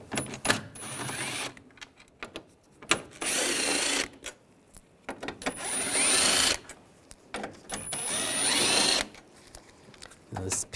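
A power tool fitted with a T30 socket backs out headlight bolts on a 2009-2017 Volkswagen Tiguan, giving several whirring, buzzing bursts of a few seconds each with short pauses between them.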